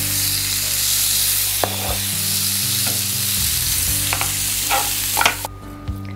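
Oiled grill grates hold lamb chops searing toward medium rare, giving a loud, steady, close sizzle. Occasional knocks and clicks of utensils sound over it before it drops away abruptly at the end.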